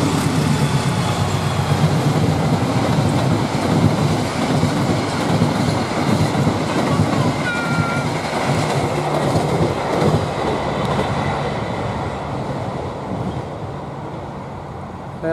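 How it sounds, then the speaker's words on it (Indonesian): A fast train rushes past on rails, a loud continuous roar of wheels with rhythmic clatter and a faint squeal, slowly easing toward the end. "Tuh, ada kereta cepat lagi."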